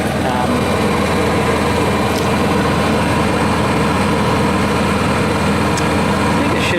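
Honda 7k portable generator running steadily at close range, a loud continuous engine drone with a low rumbling hum and no breaks, while a person talks over it.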